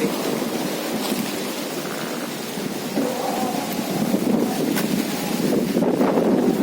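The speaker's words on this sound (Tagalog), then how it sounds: "malakas ang hangin" Strong gusts buffet an outdoor microphone in a steady, loud roaring rumble that swells slightly toward the end, with no voices heard.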